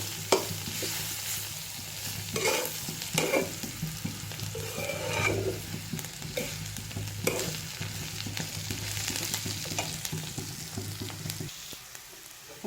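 Nigella seeds fry and sizzle in a pan for a potol bharta while a utensil stirs them in repeated scraping strokes, a steady close crackle running throughout with no voices.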